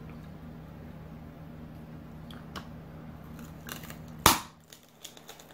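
Handheld garlic crusher pressing peeled garlic, ending in one sharp, loud crack near the end over faint background hum, followed by a few small clicks.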